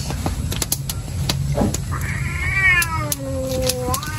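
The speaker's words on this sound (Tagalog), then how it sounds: "May dayo na naman na pusa." A stray cat meows loudly and close by at an outdoor cookout, its calls rising and falling in drawn-out wails over soft background noise and a few clicks.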